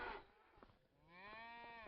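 Cattle mooing in Farming Simulator 25 on a beef cattle ranch: a short low call early, then a long, loud, drawn-out harmonic moo that swells and holds to the end.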